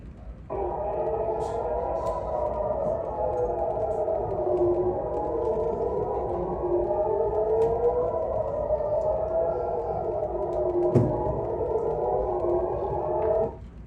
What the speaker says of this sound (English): If this is loud as sirens, I'm sorry, I'll make it lower.